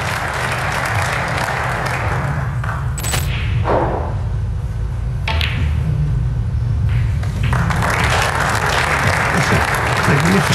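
A snooker crowd at the 2023 English Open applauds loudly, with steady clapping that breaks off briefly and then resumes in a full burst.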